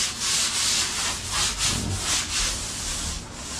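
Sandpaper rubs by hand across a wooden table in steady back-and-forth strokes, each pass a loud, close, rhythmic scratchy hiss.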